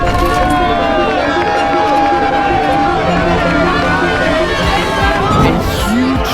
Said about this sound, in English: Finally, I could hear the people cheering.